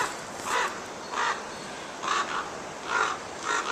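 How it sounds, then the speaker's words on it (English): Crows cawing somewhere overhead near a riverside path by a castle and limekilns, four or five spaced harsh calls sounding fairly distant over a steady outdoor wind hiss. "Crows are up there somewhere."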